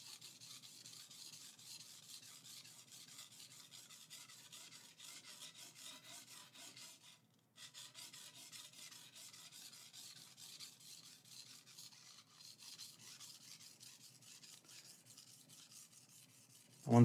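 A HAP40 steel gyuto knife is stroked across a 600-grit Shapton Glass whetstone, giving a steady, faint, continuous rasping rub with one brief pause midway and a sudden louder knock at the end.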